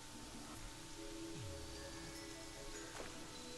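Rain in the video game Terraria makes a soft, even hiss under faint game tones, steady and quiet throughout.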